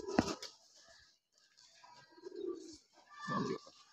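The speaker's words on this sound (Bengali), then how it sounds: "আর কিছু পাল্লা কবুতর আছে" Soft, low cooing from racing pigeons in short throaty bursts, a couple of calls a few seconds apart, fairly close, with faint background rustle.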